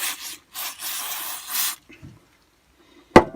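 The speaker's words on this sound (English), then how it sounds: "Give that a good spray down again." Several short hissing aerosol spray bursts on a part from a Honda HRH536 lawn mower, stored over two years, separated by brief pauses, then quiet and a sharp knock at the end.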